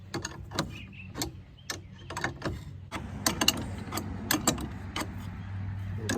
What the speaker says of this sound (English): start cranking a little bit on each side until you start to compress the spring